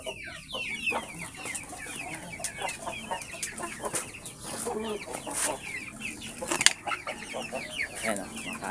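Backyard Rhode Island Red breeder chickens clucking steadily while eating mixed feed, a busy overlapping chorus close by, with faint human talk in the background.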